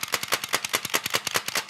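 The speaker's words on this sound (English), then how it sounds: "you can kind of dry fire and make it click" An X-Shot toy foam blaster is dry fired over and over, producing a fast, even train of sharp plastic clicks, close and fairly quiet, about nine per second and rattling on without pause.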